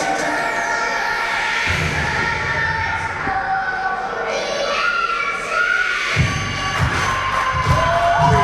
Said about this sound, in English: I think we know who the crowd likes in this match